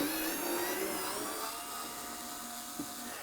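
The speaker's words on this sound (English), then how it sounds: "So I'm going to use my new little electric screwdriver." A small, inexpensive electric screwdriver backs bolts out of the chassis of a Marlin 10L guitar combo amp, giving a steady, close motor whine that runs throughout, with a brief knock near the end.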